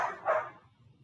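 A dog gives two short barks close by, the second a little stronger, and they fade into a quiet background.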